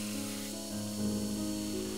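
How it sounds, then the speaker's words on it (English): A belt grinder works a forged hearth steel knife blade held with a push stick, giving a steady, continuous abrasive hiss over a humming motor drone that swells slightly midway, close and fairly loud, with no voices. "we get to the most time-consuming and frankly most boring part of making a knife, and that is spending time in front of the grinder"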